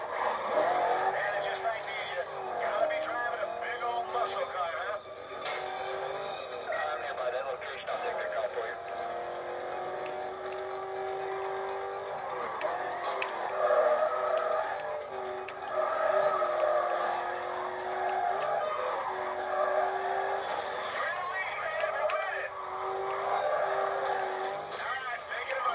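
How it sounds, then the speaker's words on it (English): A black Corvette in a Need for Speed Carbon race at Kempton, its engine droning and revving steadily throughout with tire noise and passing cars, under a voice talking. "driving a black Corvette"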